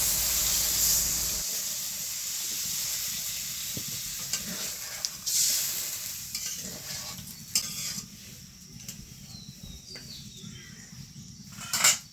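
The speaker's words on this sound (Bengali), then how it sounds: "কষানোটা হয়ে গেছে, এখন আমি জল দিয়ে দিই।" Water poured into a hot pan of soya chunk curry with egg: a loud hiss and sizzle that gradually settles into quieter bubbling, with scattered stirring clinks near the end.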